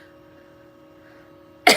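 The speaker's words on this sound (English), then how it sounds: "that was my first cough, but that is just because I sucked in air" A single short cough bursts out at the very end, loud and close, after a stretch of near-quiet room hum.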